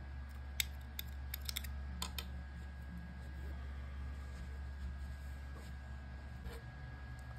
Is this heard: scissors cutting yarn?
yes